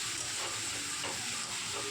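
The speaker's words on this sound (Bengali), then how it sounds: "এখন আমি কষাতে থাকবো।" Mushroom masala being stir-fried in a pan, with a steady dense sizzle and repeated scraping strokes of a spatula running continuously throughout, close and fairly loud with no voices.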